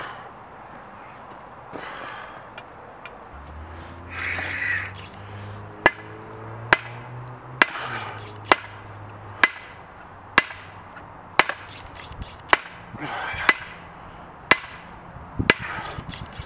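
A hammer strikes hot metal on an anvil at a newly fired forge, sharp ringing blows landing in a steady rhythm about every half second over a low roaring background.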